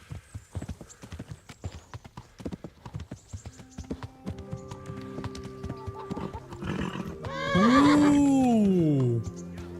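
A horse in the video game Kingdom Come: Deliverance clip-clops along at a steady gait, then gives a loud, long neigh near the end as it tires.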